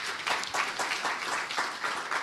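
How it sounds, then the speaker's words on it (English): Forum audience applause comes through faint and distant, settling into a steady rhythmic clapping of roughly three beats per second. "A round of applause to our radio colleagues."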